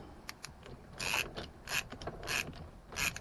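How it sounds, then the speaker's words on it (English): A screwdriver turns a puller to remove the steering wheel from a Foxbody Mustang, giving a run of quiet, close ratcheting clicks in a few bursts with short pauses between them. "you put your screwdriver in here and you get to turning"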